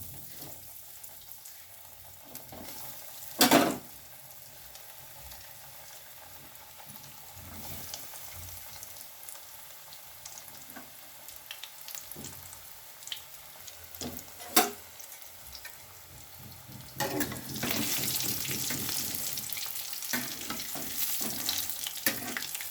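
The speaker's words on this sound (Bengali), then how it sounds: "আরও আছে, আগে এই কটা আমি ভেজে নিই।" Vegetable chops fry in hot oil with a steady, close sizzle, broken by a couple of sharp clatters and a louder, busier bubbling near the end.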